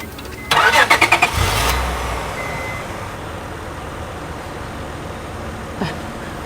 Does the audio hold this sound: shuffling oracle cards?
no